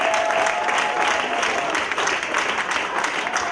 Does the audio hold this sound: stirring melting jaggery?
no